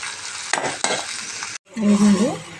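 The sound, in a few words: food frying in a pan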